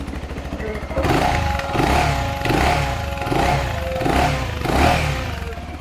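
Bristol Mostro 250 motorcycle engine running close by, a loud rhythmic putter with pulsing revs that swell and fall several times over a steady idle.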